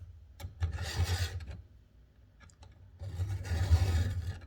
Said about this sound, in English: whenever I'm sharpening a chain, I just go with